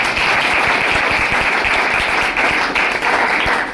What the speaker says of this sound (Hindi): इसलिए एक बार प्रणव जी के लिए जोरदार ताली